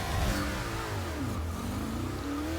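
Toyota Camry NASCAR stock car engine in the Forza Motorsport 6 racing game, a steady loud drone with pitch rising and dipping through gear changes, no talk.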